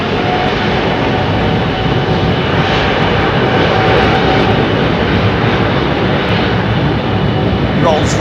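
A Boeing 747 freighter with Rolls-Royce RB211 engines departs London Heathrow runway 27R, its engines producing a loud, sustained roaring rumble that fills the whole stretch while someone talks over it.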